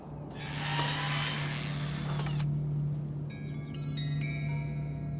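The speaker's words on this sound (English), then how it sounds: "I got my drill out and just removed some of the siding." A power drill removing house siding whirs loudly for a couple of seconds, then stops, followed by faint clicks and a steady low hum.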